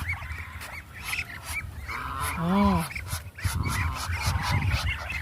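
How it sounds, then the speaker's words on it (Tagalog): Farm ducks kept as livestock give a loud, harmonic honking quack near the middle, with other fowl calls and scattered voices around it outdoors. "Mga pato."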